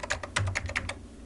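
A computer keyboard clatters under quick typing, about a dozen crisp, close keystrokes in an uneven burst that trails off near the end.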